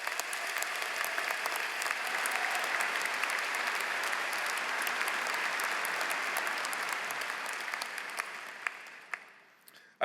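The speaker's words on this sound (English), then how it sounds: "Let's give them a round of applause." Sustained applause from a large commencement audience honoring graduates, a dense, even wash of clapping that holds for several seconds before thinning to a few scattered claps and fading out.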